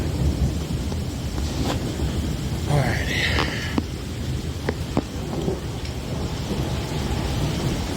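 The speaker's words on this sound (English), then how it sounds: "Dang, that's thunder." Thunder rumbles through a severe late-March thunderstorm in Michigan, a low steady roll under steady rain and wind, with a few brief sharp cracks; a person speaks briefly nearby.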